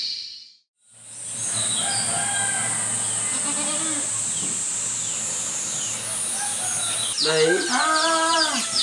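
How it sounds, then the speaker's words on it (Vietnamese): Chickens and a rooster in a forest setting, with a rooster crowing loudly near the end over a steady background of clucking and insect hum, while a voice speaks briefly. "Con gà ấy."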